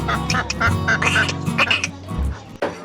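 Ducks quack repeatedly at close range, several nasal calls overlapping in a busy outdoor village setting with some background noise.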